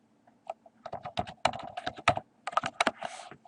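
Quick, uneven clicks of keys on a computer keyboard as a username and password are typed, close and crisp in a quiet room, with short pauses between bursts.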